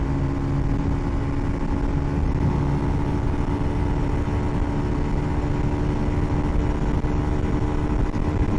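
A 2010 Bajaj Pulsar 150 BS3 motorcycle runs in third gear, its engine giving a loud, steady, close buzzing drone that holds even throughout.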